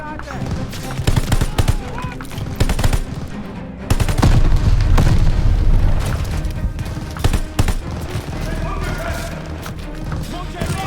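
Battlefield gunfire in Call of Duty: Vanguard's Operation Tonga mission: bursts of machine gun fire and sharp rifle shots crackle close and loud, with a heavy boom near the middle, under shouted soldier orders.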